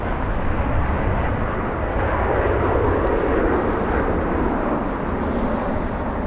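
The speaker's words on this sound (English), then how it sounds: "Southwest, this one flies to Oakland, California, roughly 1 hour flight. Lifting off right in front of us thanks to the incredible headwind." A Southwest airliner lifts off at Los Angeles International Airport into a strong headwind, its jet engines a loud, steady, broadband roar that holds close and full for the whole stretch without a break.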